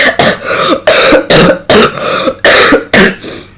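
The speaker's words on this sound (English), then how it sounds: "Sorry, coughing." A close, loud fit of coughing: about seven harsh coughs in quick succession, each a sharp burst with a short gap between.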